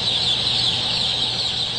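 Young chicks in a rearing pen fill the air with a dense, steady chorus of high peeping that continues without a break.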